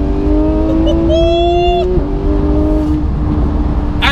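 A Porsche 991 GT3 with a Sharkworks exhaust drones loudly up close, its engine note rising briefly in a rev before settling back.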